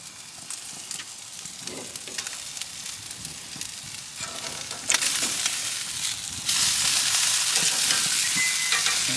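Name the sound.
steak frying in a pan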